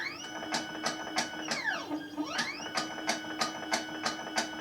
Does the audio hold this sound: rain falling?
no